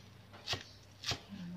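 Lemongrass, spring onion and shallots are sliced on a cutting board for a Thai buffalo larb, with two soft, quiet knife strokes spaced about half a second apart.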